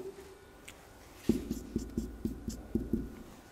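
Handwriting of example words, likely chalk or pen on a board, heard as a quick series of about eight close, rhythmic taps and strokes after a quiet start.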